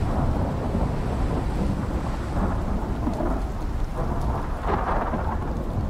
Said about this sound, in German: Ah, die Blitze sehen manchmal schon echt geil aus.